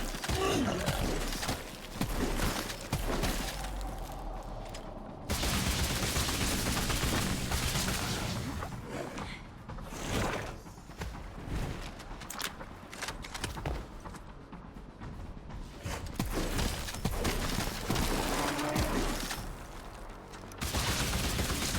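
A cryo launcher fires repeatedly in the video game Scars Above, loud bursts of gunfire and shattering impacts in sustained volleys with brief pauses between them.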